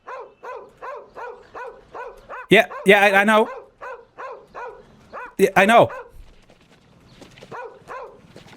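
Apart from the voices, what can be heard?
dog barking in a video game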